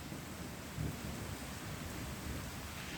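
A monsoon storm in Modasa, Gujarat brings rain hissing steadily, with a low rumble of thunder swelling briefly and rolling underneath, fairly faint and distant, with no voices.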